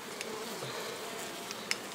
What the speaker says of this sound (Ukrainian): Ох, працюють бджолки. Бджолки працюють.